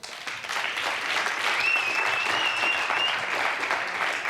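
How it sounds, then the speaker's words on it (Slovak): A studio audience on a Slovak television talk show breaks into steady, sustained applause, a dense even patter of many hands clapping with no voices over it. "poprosím vás potlesk"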